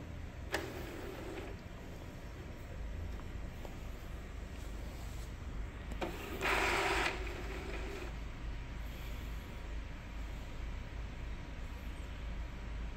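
An Epson L310 inkjet printer, just repaired for faulty colour printing and a stiff power switch, powers on with a steady low mechanical hum, a few faint clicks, and a louder whirring burst partway through as its mechanism starts up.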